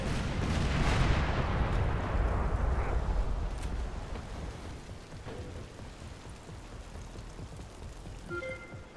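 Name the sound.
vehicle explosion in video game Crackdown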